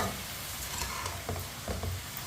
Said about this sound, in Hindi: इसी तरह चम्मच चलाते हुए पका लेना है 3-4 मिनट के लिए।